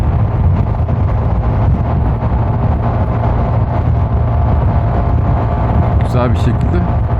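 Strong wind roars and buffets steadily and loudly over a Zontes 250 TE motorcycle as it climbs uphill on the road from Istanbul to Tekirdağ, with engine noise blended underneath.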